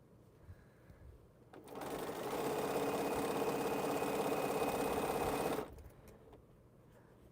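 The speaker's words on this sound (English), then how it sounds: "just sew my 1/4 inch seam" A sewing machine runs a quarter-inch seam through bias-edged quilt pieces, a steady loud whir that starts abruptly, holds for about four seconds, then stops, with quiet room tone either side.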